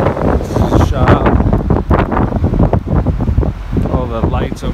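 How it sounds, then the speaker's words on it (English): Strong gusty wind buffets the microphone in loud, uneven blasts, with a voice speaking through the roar. "As you can hear, it's really windy."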